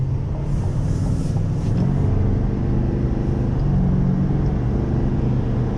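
GMC Sierra 2500HD AT4X truck with a 10-speed Allison transmission accelerating, a steady low engine rumble and road noise heard from the cabin, smooth with no distinct shifts, no talking.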